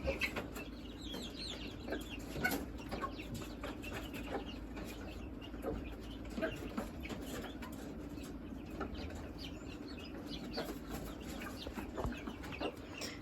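A brooding hen clucks inside a barn among other poultry, with soft repeated clucks and scattered bird calls over a steady low background hum, fairly close throughout.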